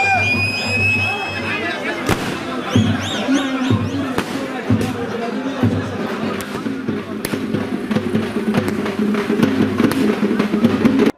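Repeated sharp firecracker bursts pop irregularly amid a noisy crowd and steady drumming at a street celebration in Cuddalore, India, with voices chattering throughout.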